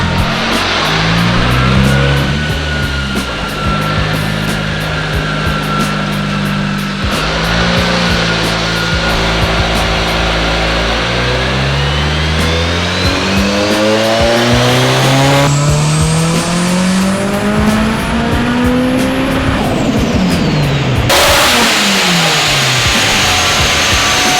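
Turbocharged K-series Toyota FRS on a dyno, loud and close, with repeated revs climbing and dropping through long high-pitched pulls, a sharp cut near the end, then rough idling and turbo whistle.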